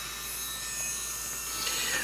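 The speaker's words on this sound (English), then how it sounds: "I'm gonna use my little drill here" A small electric nail drill works on an artificial nail tip, a close, steady high whirr with a faint grinding rasp that rises slightly near the end.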